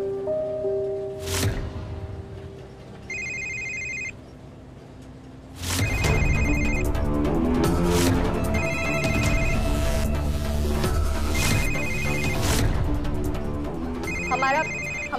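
A telephone rings in repeated electronic bursts under a dramatic music score in a Hindi television drama, the tones recurring at regular intervals amid loud scene sound.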